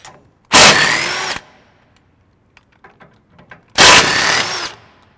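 A power drill fitted with a 17 mm socket removing rear bumper bolts on a 2014-2021 Toyota Tundra, two loud close bursts of whirring and rattling each lasting about a second, with faint clinks and handling noise between them.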